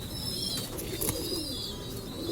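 A pair of pigeons, a male golden pigeon and a female Kamagar pigeon, coo softly in low rolling notes with a brief wing flutter, close by against steady background noise.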